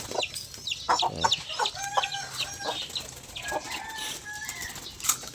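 Pigeons flap their wings in short bursts, close by, amid clucking and cooing calls from pigeons and doves, with no voices.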